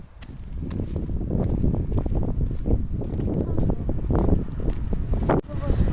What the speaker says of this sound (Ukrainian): О, вітруган який піднявся.